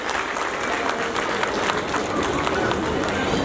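Audience applause at a school annual day fills the hall with dense, sustained clapping from a large crowd, steady and loud throughout without a break.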